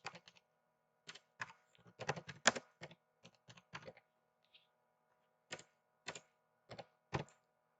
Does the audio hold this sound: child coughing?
no